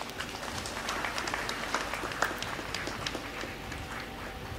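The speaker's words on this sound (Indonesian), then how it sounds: "Tepuk tangan." Applause from the audience at an Islamic school graduation and haul ceremony, a moderate, fairly even patter of many hands heard from a distance without talk.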